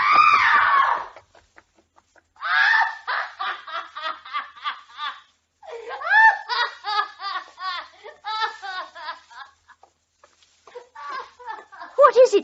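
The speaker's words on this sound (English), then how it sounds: "She screamed." A woman screams in an old-time radio crime drama, a long shrill cry at the start followed by bursts of high, broken shrieking and sobbing sounds, loud and close with no talk over them.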